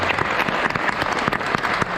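Dense, steady applause from a school band concert audience honoring the announcer, a continuous wash of many hands clapping at close-to-mid distance with no breaks across the short stretch.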